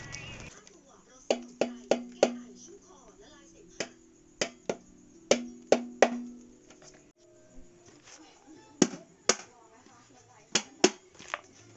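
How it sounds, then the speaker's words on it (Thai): Sharp metallic hammer taps on an exhaust muffler ring out irregularly, single and in quick pairs, with faint background sounds between strikes. "เราก็ใช้ค้อนย่างเคาะเคาะเคาะค่อยๆเคาะนะครับ"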